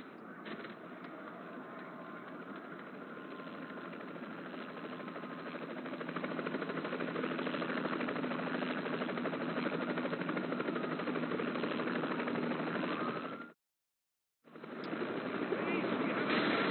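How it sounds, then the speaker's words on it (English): A helicopter flies in during Saints Row The Third gameplay, a steady droning rotor and engine hum that swells slightly, drops out briefly, then returns. "Called the boys and they're flying in a chopper."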